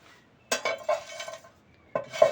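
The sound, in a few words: stirring and dry-roasting whole spices in a pan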